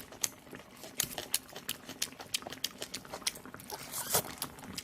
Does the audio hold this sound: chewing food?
yes